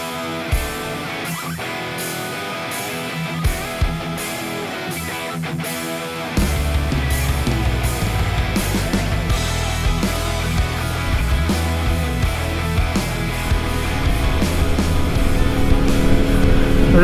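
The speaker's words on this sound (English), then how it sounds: "The last ride for the Ninja 400." A Kawasaki Ninja 400 motorcycle engine that starts from a quiet idle and rises into a loud, steady, buzzing drone as the ride gets underway, holding a constant close roar to the end.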